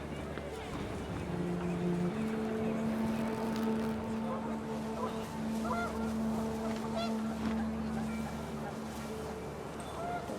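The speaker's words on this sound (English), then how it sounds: "The wind picked up and panicked geese appeared and quickly went." Geese honking in the video game What Remains of Edith Finch. Repeated nasal honks sound over a steady low hum and windy background.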